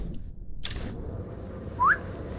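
Short rising whistle in the video game Sniper Elite 5, a single clear sharp note near the end, heard after a brief burst of noise over a low ambient background.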